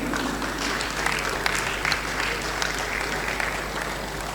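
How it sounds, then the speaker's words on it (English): Applause from an audience at a football tournament draw ceremony in Edo State, steady dense clapping throughout with a few sharper claps standing out. "A round of applause for him, please."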